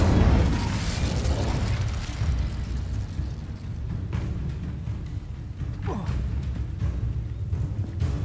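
Incendio fire spell cast in Hogwarts Legacy, a loud rushing burst of flame that opens the clip and settles into a sustained roaring crackle under game ambience.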